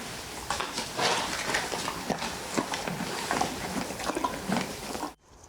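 Horses in a stable make soft, irregular hoof clops and shuffling steps on the ground. The sound is faint and close, with no talking, and it stops abruptly at the end.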